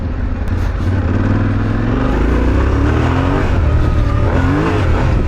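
A 2025 Yamaha Tenere 700 Rally adventure motorcycle accelerates hard, its engine droning and rising loudly and steadily with wind rush, heard from the rider's position without talk.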